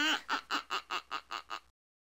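A cartoon duck quacks in The Jolly Postman's Party, a Windows 3.1 children's game: a fast run of eight clipped, evenly spaced quacks, close and clear, with no talk over them.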